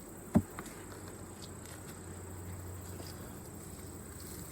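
Honey bees drone in an opened beehive as a faint, steady buzz, with a sharp knock near the start as the hive is handled and no talking.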